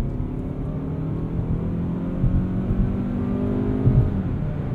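A 2021 Mazda CX-30 engine hums and builds steadily while accelerating, a low droning rumble heard from inside the car with no talking.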